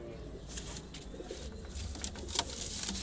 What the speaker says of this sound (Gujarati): આ જો અમારું ઉડાનનું કબૂતર છે